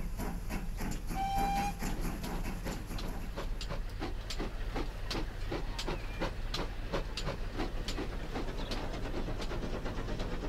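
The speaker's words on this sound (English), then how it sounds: "So he's the train heading to Portsmouth." Train running in the Transport Fever simulation game, with a steady rumble and a rhythmic clickety-clack of wheels over rail joints, a brief whistle near the start, moderately loud and steady without voices.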